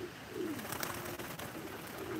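Pigeons coo softly in a loft, a few low, rolling calls heard close by over steady background noise, with no talk.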